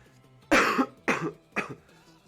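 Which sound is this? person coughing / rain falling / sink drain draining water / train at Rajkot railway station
person coughing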